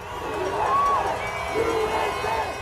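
An angry crowd at a coronavirus lockdown protest shouts and cheers in a loud, continuous wash of voices, with individual yells rising above the din.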